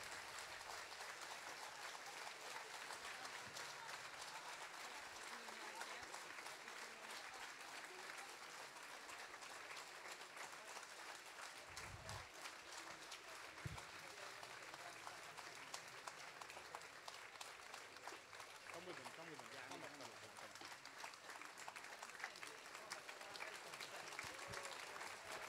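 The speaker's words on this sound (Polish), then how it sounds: "So please give a warm round of applause to Mr. Stanisław and Miss Alicja." Steady, sustained applause from a concert audience welcoming two performers, Mr. Stanisław and Miss Alicja, to the stage. The clapping is dense and continuous throughout, heard from a moderate distance, with a few low thumps mixed in.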